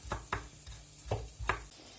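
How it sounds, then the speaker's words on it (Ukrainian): Several sharp, separate knife taps on a cutting board finely chopping hot pepper, irregular and fairly quiet, with a faint sizzle of frying eggplant in the background. "Отак от і далі дуже-дуже мілко буду нарізати."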